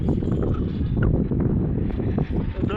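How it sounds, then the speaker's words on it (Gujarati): Wind buffets a microphone outdoors, a steady, loud, low rumbling roar with gusty swells lasting the whole stretch and no voices. "તમને પવનનો અવાજ આવતો હશે"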